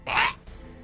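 A short stream follower alert chime plays once, a bright tone lasting about a quarter second, then fades into quiet background hiss.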